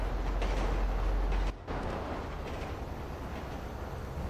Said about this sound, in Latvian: Vilciens.